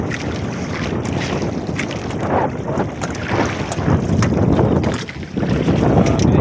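Strong wind buffets the microphone in loud, gusting roars over open water, with the rush of a moving boat underneath.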